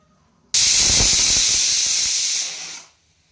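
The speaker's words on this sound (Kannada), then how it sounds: "ಇವಾಗ 2 ವಿಷಲ್ ಬಂದಿದೆ" A pressure cooker whistle lets out a loud, sustained hiss of steam for about two seconds, close by, then tapers off quickly into quiet.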